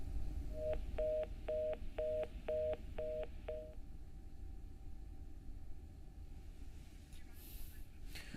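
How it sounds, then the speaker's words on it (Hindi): A phone line connecting for a live news call, with a rapid series of seven dialing tones followed by a quiet line hiss and faint rumble. "सुशील आनंद शुक्ला जी, कांग्रेस के प्रवक्ता, हमारे साथ फोन लाइन पर जुड़ गए"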